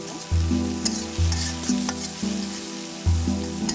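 Fish frying in a pan for a Bengali fish bhorta, likely koi fish, with a steady close sizzle and recurring stirring scrapes and knocks of a spatula against the pan.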